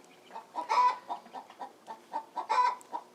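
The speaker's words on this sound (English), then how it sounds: "Here are my chickens." Chickens clucking nearby in a steady series of short, soft calls, with a few brighter squawks mixed in.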